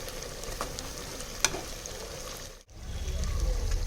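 Tomatoes frying and being stirred in a pan for chicken curry, a steady close sizzle with a few light utensil taps, briefly cutting out before the frying resumes louder.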